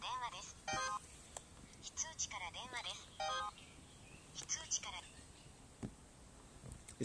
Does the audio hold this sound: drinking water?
no